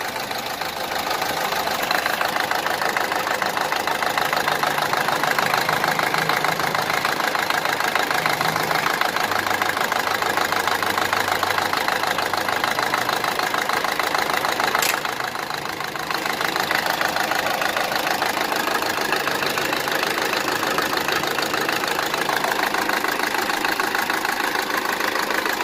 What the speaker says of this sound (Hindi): गाड़ी का इंजन देख रहे हैं आप।